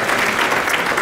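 An audience claps through a mayor's State of the City address, steady, dense applause from a crowd filling the whole moment.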